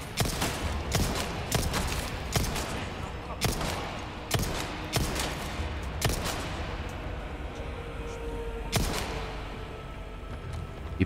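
A Punisher handgun fires in the Resident Evil 4 Remake, giving about nine sharp, loud shots at irregular intervals over a constant background rumble.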